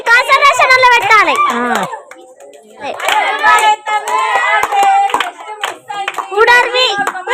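At a New Year's Eve group party, people clap hands to cheer on a child, the clapping scattered beneath loud overlapping voices and children's excited shouting.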